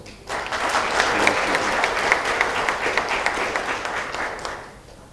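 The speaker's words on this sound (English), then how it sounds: "I wish you'd give yourselves a round of applause." An audience at an official visit to the SACU Secretariat breaks into loud, sustained applause that swells quickly, holds for several seconds, then tapers off.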